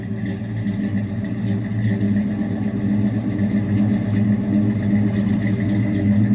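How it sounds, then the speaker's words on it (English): A 1971 Plymouth Duster 340 V8 rumbles steadily through its exhaust at the rear, a loud, deep, continuous engine note with slight swells in revs, close by and without talk. "Sounds real good out the exhaust, out the back."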